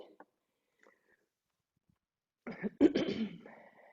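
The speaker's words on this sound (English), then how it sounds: "Excuse my coughing." Near silence with a few faint clicks, then a close cough or throat clearing with a rough, breathy tail near the end.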